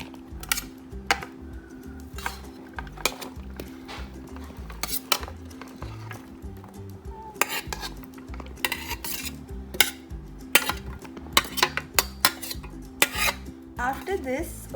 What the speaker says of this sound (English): Let's transfer all the vegetables in a bowl.